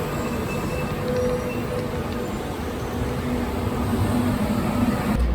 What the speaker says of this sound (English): It's a battery electric bus on the busway.